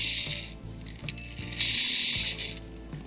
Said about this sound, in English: we have got the wheels all in the correct orientation and spinning freely